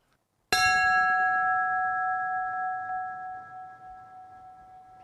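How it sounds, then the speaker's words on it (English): A single bell struck at a firefighters' memorial tribute, one clear loud ring that sustains and slowly decays over several seconds, heard alone. "Bells tolled, signifying the last alarm."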